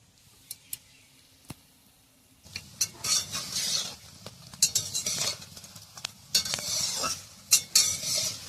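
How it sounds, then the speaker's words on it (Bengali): Helencha leaf fritters frying slowly in oil in a wok, with soft sizzling and a series of metal spatula scrapes and clinks that grow busier after a quiet start. "আমিও আস্তে আস্তে জাল দিয়ে ভাজছি।"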